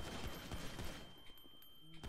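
Rapid bursts of gunfire in a tactical shooter video game, fast and fairly faint, repeating under background game noise.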